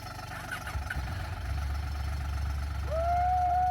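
A KTM adventure motorcycle engine starts and runs: a low, steady rumble builds and holds near the mic, and a thin rising whine joins it toward the end, with no talking.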